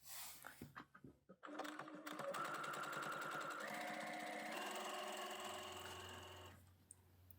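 A sewing machine test-stitches corset fabric after a few faint handling taps, then runs in a fast, steady mechanical chatter for several seconds before stopping.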